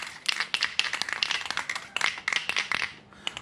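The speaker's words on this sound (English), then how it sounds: "So give it a kind of good shake" A spray can of chain lube rattles as it is shaken hard, the mixing ball clacking in a fast, steady rhythm close by for a few seconds.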